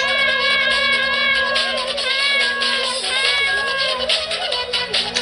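Cat meowing in the Sanic.exe horror game, a run of loud, close, drawn-out meows repeating one after another with a pitched, wavering whine, heard alone without talk.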